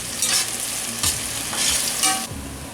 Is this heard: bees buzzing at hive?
no